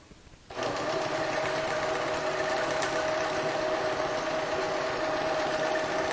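Janome 1600P sewing machine quilting on a Grace frame starts up after a brief quiet moment, then runs as a steady, loud, even mechanical whir with a constant motor tone.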